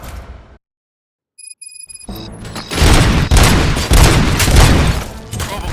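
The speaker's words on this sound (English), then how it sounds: "Gunshots? What's going on?" Gunfire in the video game Robocop: Rogue City, a sudden loud burst of rapid shots and booms following a short silence with faint electronic tones, continuing as a dense barrage.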